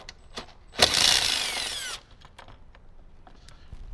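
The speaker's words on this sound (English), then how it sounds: "we'll grab our 10mm on our socket or our impact gun" A 10mm socket on an impact gun spins out a bolt while a Jeep Wrangler JL head unit is removed, giving one loud burst of about a second close by, with light clicks and handling noise around it.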